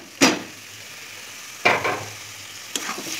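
Banana flower (mocha) dropped into melted goat fat in a pan, giving three separate sizzling bursts as it is stirred, each a loud crackle that fades into a low steady fry.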